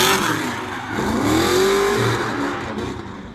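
Drift car engine at a Driftcup competition revving loudly, surging up in pitch and easing back over a few seconds, with tire and crowd noise from the track around it.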